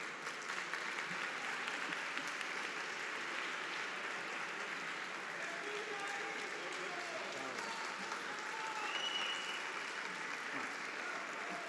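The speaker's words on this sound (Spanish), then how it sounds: "Un aplauso para ellos y muchas gracias." An audience at a community meeting applauds, a dense and steady clapping that lasts throughout at an even level.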